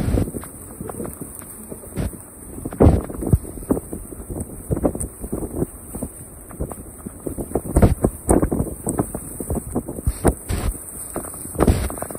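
Strong wind at a hilltop lake in Chakhewa, Bhojpur buffets the microphone in loud, uneven gusts with deep rumbling bursts throughout.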